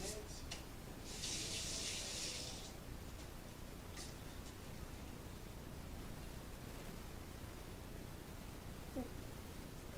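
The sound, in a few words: washing hands under a running tap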